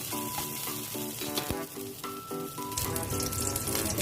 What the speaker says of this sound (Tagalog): Magigisa na tayo ng rice. Lagyan natin itong taba.